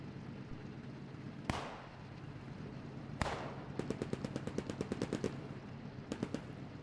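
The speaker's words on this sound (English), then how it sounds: "Got a little bit of MG fire going on from the Panzer IV there." Panzer IV machine gun fire in the WWII shooter Post Scriptum: two heavy distant blasts, then a rapid burst of a dozen sharp shots and a short final volley, moderately loud over a low rumbling background.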